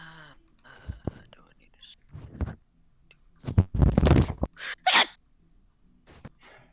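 A single sharp sneeze bursts out mid-conversation during a podcast chat, close and fairly loud, surrounded by quiet talk and soft murmurs.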